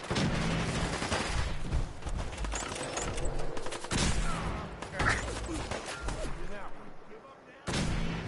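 Sustained gunfire in the Fallout 4 video game, dense overlapping shots and bursts filling the whole stretch, loud and close, with shouted voices mixed in.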